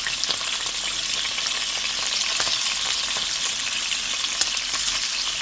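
Pork pieces frying in their own rendered fat, a loud continuous sizzle with frequent sharp pops of spattering oil, close by.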